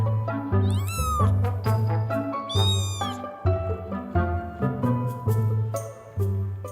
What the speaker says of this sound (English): Her present just got pretty adventurous too, with a brand new litter of 7 kittens.